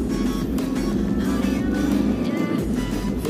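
A 2013 Daihatsu Sirion Deluxe with a manual gearbox pulls away, its engine a close, steady low drone mixed with cabin rattles and road noise.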